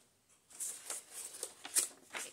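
Scissors cutting a piece of paper for a handmade junk journal, a short run of crisp snips and rustles close by and quiet, starting after a brief silence.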